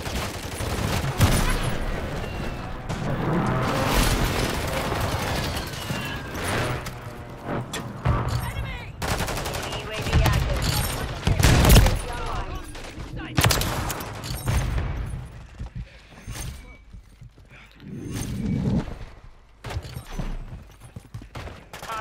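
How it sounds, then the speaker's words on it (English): Video game battle with airstrike explosions and gunfire, heavy sustained blasts and rattling shots rolling on and off over about twenty seconds, loud and close, with voices and game callouts mixed in. "Hostile airstrike near your location."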